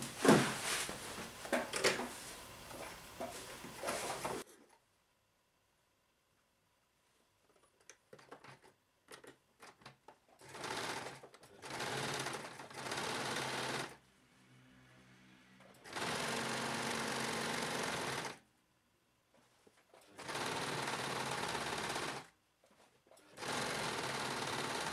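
Sewing machine stitching the seams of a pair of pants, running in several sustained bursts of steady mechanical whirring separated by quiet gaps and soft handling sounds, close and clear with no talking.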